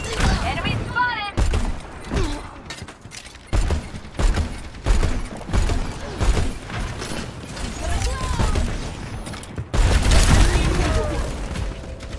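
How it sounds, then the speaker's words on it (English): Junkrat's grenade launcher bombs bursting in Overwatch 2, a series of punchy thumping explosions spaced irregularly among game effects, with someone talking between blasts. "This situation calls for more bombs."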